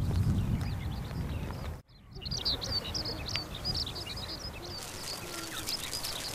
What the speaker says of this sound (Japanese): 鳥のさえずりを効果音に田中はこの日個人に場踊りを捧げた。